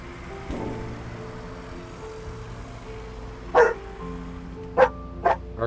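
A dog barks indoors while a supermarket simulator video game plays, a sharp bark, then a pause and two or three more quick barks over a steady low background hum of game music.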